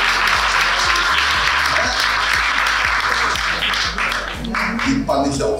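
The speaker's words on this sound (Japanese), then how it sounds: "より大きい拍手" Audience applause at a baseball fan meeting with a former Lotte catcher, dense and steady throughout, with a voice talking loudly over the clapping.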